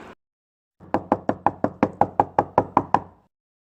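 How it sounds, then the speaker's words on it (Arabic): A rapid series of about eleven sharp knocks on a door, evenly spaced and close, sounding alone after a short silence, with no voices. "شنوارة تعال شوفوا يا هل يدق بالباب"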